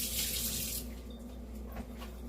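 Water runs steadily from a tap while hair colour is rinsed out, with a strong rushing flow that eases slightly partway through, close and continuous.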